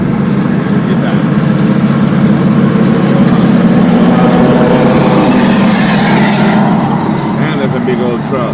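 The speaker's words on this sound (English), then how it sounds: "And there's a big old truck." A big truck's engine rumbles loudly and steadily as it passes on the road, a heavy continuous roar with voices talking over it.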